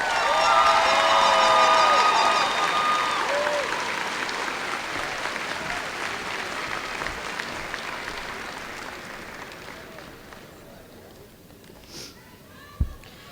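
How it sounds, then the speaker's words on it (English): Audience at a 2018 Northside High School graduation applauding distinguished graduates, loud massed clapping with some cheering and a tonal sound early on, gradually thinning and fading toward quiet, with one sharp knock near the end. "Please join me in applauding the class of 2018 distinguished graduates."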